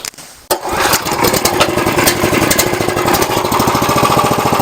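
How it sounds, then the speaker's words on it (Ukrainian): A Lifan 188F petrol engine on a homemade sawmill with a centrifugal clutch is pulled into life, catching after a brief start and then settling into a loud, close, rapid chugging rattle. "Двигун працює,"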